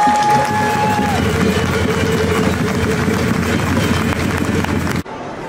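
A crowd at an outdoor demonstration about renewable energy breaks into sustained applause. The dense, even roar of clapping and crowd noise holds steady for about five seconds, then cuts off abruptly.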